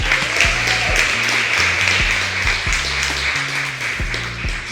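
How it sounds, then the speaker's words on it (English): Audience clapping at an awards ceremony, a thick continuous wash of applause with music pulsing underneath, steady and fairly loud throughout, no one speaking. "But can we give her one more hand clap, please?"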